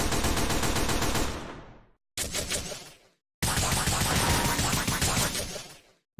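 Rapid bursts of game gunfire from the shooter Gunsun Zeros, loud and close, arriving in three dense blasts separated by short silent gaps, with no talk over them.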